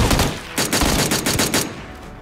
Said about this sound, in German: Ah, war mein letzter Schuss.